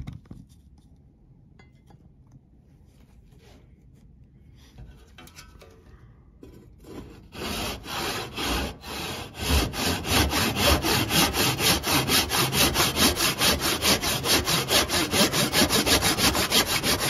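A handsaw cuts through a small wooden piece for a wooden robot head, starting with faint scraping and building into loud, steady back-and-forth rasping strokes at a quick, even rhythm.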